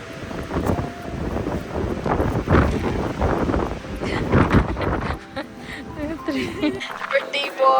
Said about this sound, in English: it's windy. Very windy.